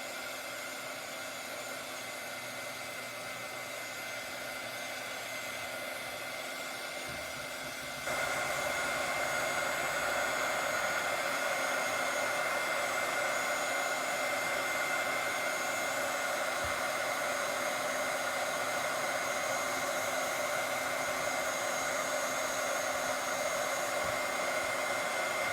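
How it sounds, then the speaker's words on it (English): A heat tool melts embossing powder on a handmade Valentine's card, giving a continuous loud, even blowing whir that grows stronger partway through and then holds steady without any talking. "Take our heat tool and circular motion."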